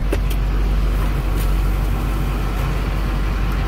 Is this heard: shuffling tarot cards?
no